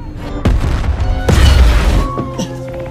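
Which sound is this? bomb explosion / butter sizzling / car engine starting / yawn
bomb explosion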